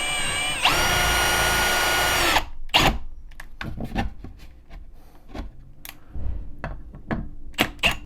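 A power drill driving drywall screws into plywood, one loud sustained whirring burst of under two seconds, then scattered knocks, clicks and handling sounds.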